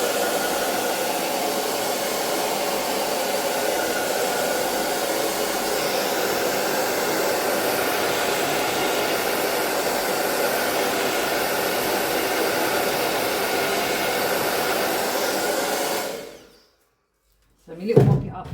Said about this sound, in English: I'll give it a little bit of a dry with the dryer